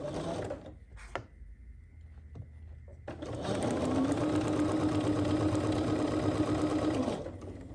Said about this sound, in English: Taking care that I'm sewing that 1/4 inch seam.